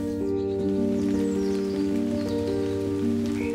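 Steady monsoon rain patters without pause in the forest home of the Oriental dwarf kingfisher, a dense even wash with a low sustained tonal drone running underneath and no voices.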